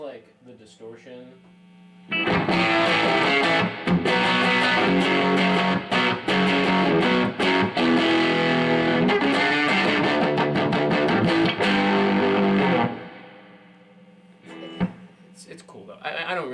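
Electric guitar played through a Peavey Bandit 65 amp with distortion: loud, thick, sustained distorted chords and riffing that fill most of the stretch, framed by quieter clean notes and amp hum at the start and end.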